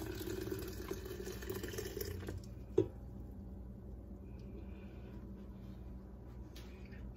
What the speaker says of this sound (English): So just pour your hot tea in here.